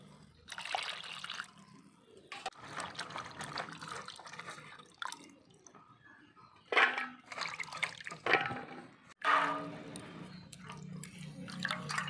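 Tap water runs and splashes while freshly cut vegetables are rinsed, a steady trickle broken by louder bursts and drips as the produce is handled, with no talk.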